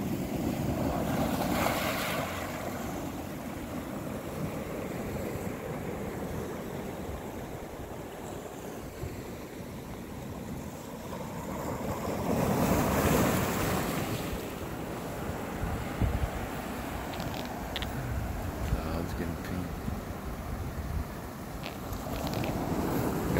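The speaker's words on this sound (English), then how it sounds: "waves coming up." Ocean waves wash steadily at Ko Olina beach at sunset, with a broad continuous rush that swells now and then as surf rolls in, mixed with gusty wind buffeting the microphone.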